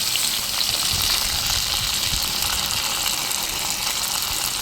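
Cumin seeds and green chilies frying in hot oil, a loud dense crackling sizzle that holds steady throughout without pause, close by and with no talking.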